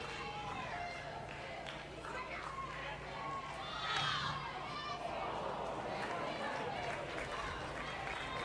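Crowd noise at a college softball game between Florida State and UCF, a steady broad roar of fans with shouts and cheers swelling briefly midway, heard with commentators talking over it.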